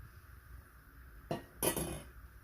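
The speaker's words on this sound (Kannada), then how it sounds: "ಈಗ ಮುಚ್ಚಳ ಮುಚ್ಚಿ ಕುದಿಯಕ್ಕೆ ಬಿಡಬೇಕು" A metal lid set onto a cooking pot of capsicum gravy, two quick clanks in close succession, close and fairly loud against a quiet kitchen.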